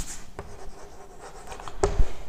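Writing on a board, a faint scratchy stroke sound near and steady, with a sharper knock near the end and no talking.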